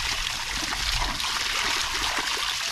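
Water rushes steadily into a fishpond inlet, a loud, continuous splashing flow that fills the whole stretch without a break.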